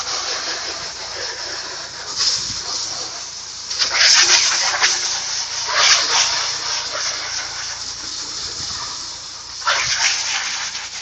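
A hose sprays water in a steady rushing hiss into the basin of a DE pool filter, swelling louder in a few surges as the stream hits a hard surface nearby.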